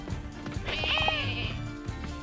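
In the video game Lumberhill, a sheep lets out a single wavering bleat that lasts about a second, in the middle distance, over low background game noise and faint rumbles.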